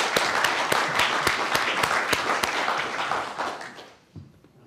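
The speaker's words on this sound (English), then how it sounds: "Give you a big clap." An audience applauds with brisk, dense clapping and some sharp individual claps up close, holding steady for several seconds before cutting off into quiet.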